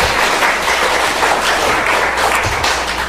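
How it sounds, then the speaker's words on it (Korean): Church congregation clapping during a Sunday service, a dense, even patter of hands sustained throughout at close range. "박수 한번 쳐주시죠"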